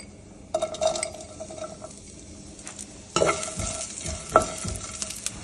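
Orange peel frying with cumin and pepper in a pan: a quiet sizzle broken by a few sharp clinks and scrapes of a spoon against the metal, with no talking.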